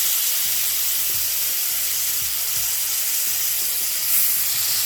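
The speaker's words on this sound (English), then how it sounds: "Now it's time to go ahead and brown these oxtails." Oxtails browning in a black cast iron pan over medium-high heat give a steady, loud sizzle with a constant bright hiss, accompanied by occasional low thumps and clatter.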